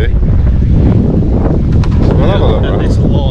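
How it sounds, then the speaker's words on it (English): Loud, buffeting wind noise roars against the microphone throughout at an outdoor Japanese car show in the UK, with a voice faintly mixed underneath. "It's very windy."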